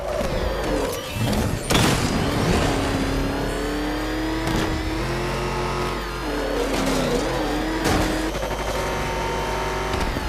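Car engine revving and accelerating in the video game Batman Arkham Knight, a loud, steady mid-pitched drone that climbs and dips in pitch with a few sharp bursts.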